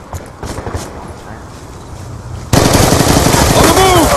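Rapid automatic gunfire from a Call of Duty Black Ops 2 multiplayer match on a capture-the-flag objective map, a quieter burst of shots giving way to a loud, dense stream of rounds in the second half, with faint voices underneath.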